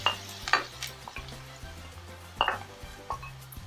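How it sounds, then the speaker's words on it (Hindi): Onions browning in a pan for bhindi (okra) sabji, a steady close sizzle broken by a few sharp scrapes and clinks of a spoon against the pan. "प्याज को थोड़ा ब्राउन होने देंगे।"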